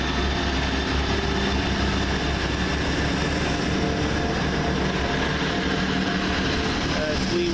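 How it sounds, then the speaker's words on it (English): A train pulls away from a station on the Yorkshire line, its steady engine rumble and rolling noise filling the scene at a constant, moderately loud level with no speech. "There goes the whole train"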